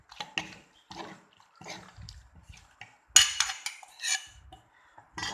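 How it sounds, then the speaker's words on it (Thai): Ingredients for a Thai green mango salad are stirred together in a bowl, giving bursts of clinking and scraping of utensil against dish in an uneven rhythm, close and moderately loud, with no talk. "กวนให้วัตถุดิบให้ส่วนผสมเข้ากันนะคะ"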